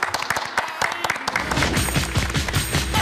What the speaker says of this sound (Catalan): Un aplaudiment, no?